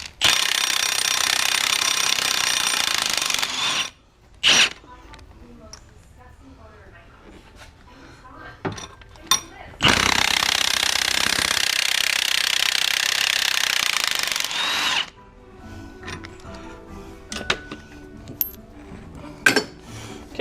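Bursts of a power tool backing out the two 15mm bolts on the torque strut motor mount of a 3.6L Chevrolet Malibu: two long loud whirring runs, each several seconds, separated by quieter clinks and handling noise.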